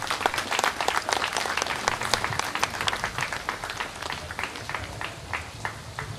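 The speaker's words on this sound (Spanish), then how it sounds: "recibámoslo con un fuerte y caluroso aplauso" An audience at the opening ceremony of the San Sebastián fair in Mexico welcomes a government official with loud, sustained clapping that starts strong and gradually tapers over several seconds.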